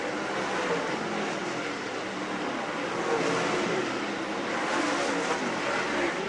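Late model race cars roar together on a dirt oval speedway, a dense, steady wash of engine noise heard from a distance without clear individual passes.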